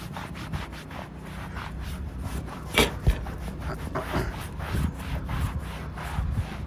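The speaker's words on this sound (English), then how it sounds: "next step, rubbing alcohol on the surface, as well as on both sides of the aluminum as well." Aluminum surface on an RV solar panel air dam being wiped down with rubbing alcohol, a soft repeated rubbing and scrubbing texture with a couple of sharper knocks midway, fairly close and steady with no talk.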